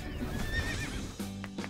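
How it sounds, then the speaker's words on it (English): A horse gives a short, clear whinny with a rising and falling cry, followed by a few close hoof clops, all heard alone without talking. "Can you ride a horse?"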